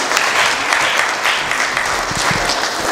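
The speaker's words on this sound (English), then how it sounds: "Please give him a round of applause." Audience applause at a Nigerian Independence celebration in Manchester, a dense, steady wash of many hands clapping at full volume for the whole stretch, with no voices breaking through.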